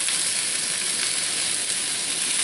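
Peppers and onions fry in a Lodge cast iron skillet, giving a steady, close, even sizzle with no talking.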